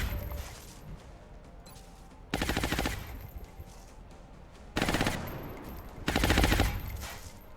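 Suppressive gunfire in XCOM Long War comes as three long automatic bursts, each a loud rapid rattle lasting about a second or two, set apart by quieter stretches of ambient game sound.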